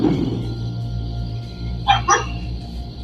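A dog barks twice in quick succession at a distance, over a low steady background hum.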